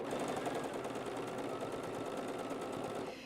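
A sewing machine stitches steadily and rapidly, giving a quiet, continuous mechanical whir with a fine rhythmic pulse, close by and with no talking.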